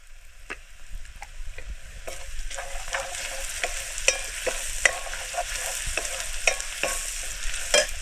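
Garam masala, turmeric and other spices fry in a pan during outdoor cooking in the forest, giving a steady crackling sizzle broken by repeated scraping strokes of a stirring spoon, close and with no voices.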